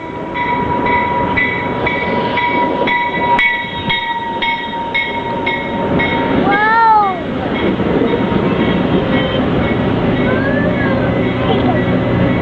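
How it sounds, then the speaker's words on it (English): Train pulling into a station, a rumbling rail roar with a long steady horn-like tone and squealing wheels, loud and close, with people talking excitedly over it. "All right, let's get on the train."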